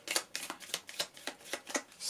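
A deck of playing cards being shuffled for a solo card game, eight crisp riffling bursts at an even, quick rhythm, close and fairly quiet with nothing else heard.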